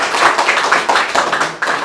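Applause from the audience at the close of a lecture at an academic conference: dense, steady clapping from many hands, fairly close and loud, with slight swells, running throughout without speech.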